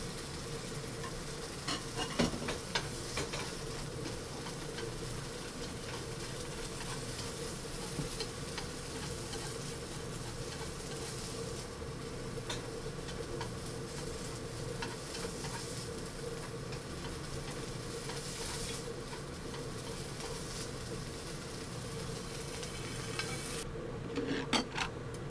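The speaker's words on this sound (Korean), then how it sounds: "고사리도 볶고" Bracken fern (gosari) stir-fried in a pan for bibimbap makes a steady, close sizzle throughout, with soft stirring scrapes and occasional light utensil taps.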